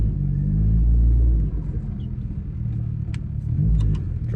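Yugo car driving slowly on an icy driveway in cold weather, a low engine rumble close by that swells, eases off, then rises again, with small crunches and clicks over it.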